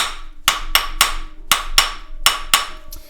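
A rawhide mallet strikes a metal ring in a jeweller's workshop, about eight sharp, evenly spaced blows, loud and close, each with a brief ringing decay.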